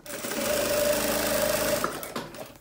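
A sewing machine stitches a cute teddy-bear backpack, running in one steady close burst for about two seconds before stopping.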